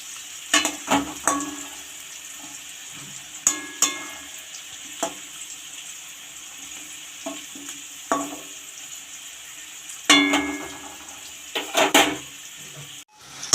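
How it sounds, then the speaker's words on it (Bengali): Potatoes fry in a covered pan with a soft background sizzle, punctuated by irregular clanks and scraping bursts as the pieces are turned with a utensil. "আলুগুলো ঢাকা দিয়ে দিয়ে ভেজে নেব, যাতে আলুগুলো সিদ্ধও হবে আর ভাজাও হবে।"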